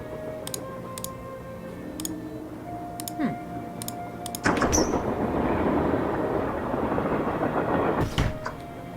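Train riding ambience in the Nancy Drew video game set aboard a train, a steady rumble with ticking clicks and faint tones that swells into louder rolling noise midway.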